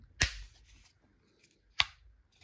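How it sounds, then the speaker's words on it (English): The fold-out wall plug on a myCharge portable power charger snaps out with two crisp, close plastic clicks about a second and a half apart, with quiet handling in between. "Now this part right here nicely comes out, and it makes this clicking noise"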